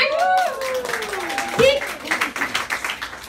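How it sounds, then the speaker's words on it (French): An audience applauds at a cooking show event, scattered clapping that builds through the clip, with voices and a sliding vocal whoop over it at the start. "On les applaudit, OK?"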